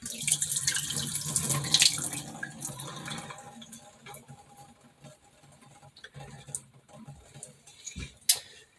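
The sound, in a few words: rinsing sprouting seeds under running tap water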